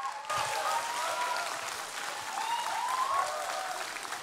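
A church congregation claps and cheers loudly as the pastor comes forward at a Sunday worship service, with steady dense applause and whoops filling the hall for several seconds.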